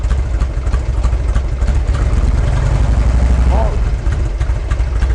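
A Harley-Davidson Twin Cam V-twin with newly adjusted pushrods idles close by, a steady low throbbing rumble with one brief rise in revs just after the middle.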